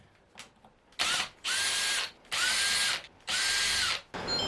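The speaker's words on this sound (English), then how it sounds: "I need to get a screwdriver and undo that." A power drill or electric screwdriver undoes the screws on the pump of a leaky Grainfather G30 brewing system, running in three loud, sustained bursts of about a second each, with brief pauses and faint handling noises between them.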